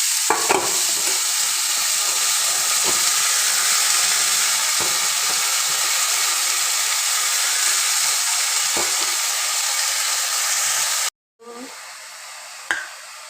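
Khesari greens hit a hot pan of oil with fried chillies and set off a loud, steady sizzle that runs unbroken until a short cut near the end, then resumes more faintly.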